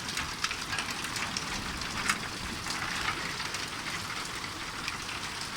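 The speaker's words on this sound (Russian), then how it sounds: "Про град вообще никто не говорил по прогнозу." Hail and heavy rain from a sudden summer thunderstorm clatter densely and continuously on surfaces outdoors, a steady hiss with sharper ice strikes scattered throughout and no voices.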